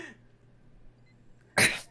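A single sharp sneeze bursts out after a near-silent pause in The Outer Worlds video game, loud and close.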